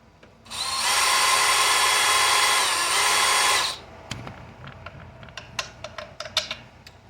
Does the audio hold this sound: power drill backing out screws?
yes